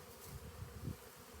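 Honeybees in a warmed winter bee house hum as a faint, steady low drone with slight pulsing swells, close and alone.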